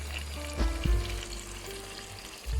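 Potatoes sautéing in a pan for aloo palak, a close, steady sizzle and crackle of frying with a few stirring knocks and clunks, no voices.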